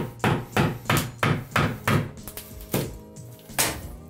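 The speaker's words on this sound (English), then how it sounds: "take a large flathead screwdriver or a chisel, a red bar, a painting tool, whatever you get and get to get in behind that tile" Bathroom wall tile is chiseled off with a flathead screwdriver or chisel, giving a steady series of sharp, close knocks about twice a second, then a few more irregular hits, with no talking.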